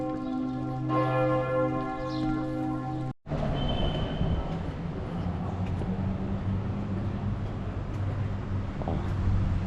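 Church bells ring out in Freiburg's city center, a rich, sustained peal of overlapping tones for about three seconds before a brief cutoff, then continuing more faintly beneath steady street and traffic ambience.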